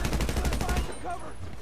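Minigun fire in Grand Theft Auto V during a shootout at the docks: a rapid, evenly pulsing burst lasting under a second, loud and close, then cutting off into quieter game sounds.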